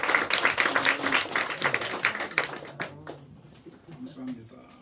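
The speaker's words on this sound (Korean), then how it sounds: "우리 박수로 환영하겠습니다" A church congregation at a Sunday morning service applauds to welcome a visiting pastor and his wife. Brisk clapping rises, then tapers off midway as a voice speaks over the thinning claps.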